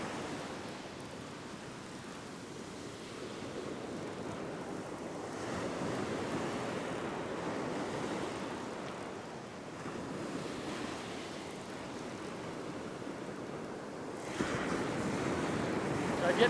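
Ocean surf breaking on shore while fishing from the beach, a continuous broad wash of waves swelling and receding with wind noise on the microphone, building louder toward the end.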